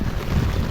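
Wind-driven rain lashing a rooftop garden of potted succulents during a strong gale, a dense, steady roar of gusting wind and rain close to the microphone, with no voices.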